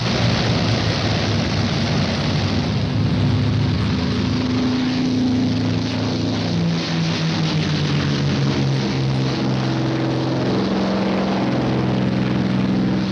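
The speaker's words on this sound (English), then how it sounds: "the pea shooters are taking off" Loud, continuous droning of propeller fighter planes taking off, a steady roar with shifting tonal hum as the planes move, no voices.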